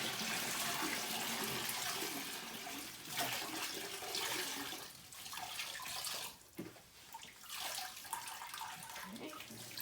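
Water rushes and splashes continuously while raw Shetland sheep fleece gets its first wash, a steady, close, full wash sound that thins and turns more sloshy toward the end.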